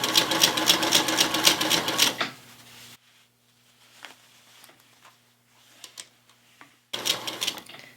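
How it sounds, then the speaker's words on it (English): A sewing machine stitches a leather scrap patch, running in a fast dense burst at first, then going quiet with a few faint clicks, before a short run of stitching starts again near the end. "Now I'm going to sew up to just 1 or 2 stitches past where I was before."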